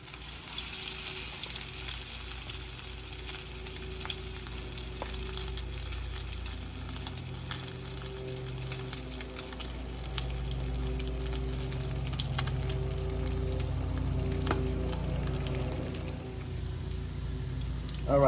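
Salmon croquettes fry in a greased pan with a constant crackling sizzle, like light rain, that holds close and steady with scattered pops.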